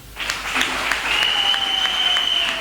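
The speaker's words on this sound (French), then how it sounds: "Acclame Jésus" Church congregation applauding during a French-language Sunday service, a steady, loud wash of clapping from many hands that starts abruptly and continues throughout, with a sustained tone ringing above it.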